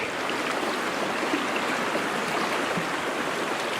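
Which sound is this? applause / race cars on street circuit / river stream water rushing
river stream water rushing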